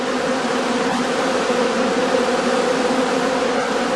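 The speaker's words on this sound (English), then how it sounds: "On sunny and warm October days, bees can still be seen flying before they cluster together for the cold winter months." A loud, steady swarm-like drone of honeybees flying around their hives on a warm, sunny October day, an unbroken buzz with no voices.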